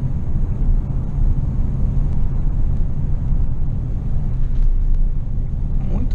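A Chevrolet Onix 1.4 cruises in fifth gear at about 1000 RPM and 37 km/h, giving a low, steady rumble with road noise inside the cabin, no distinct revs and no talk.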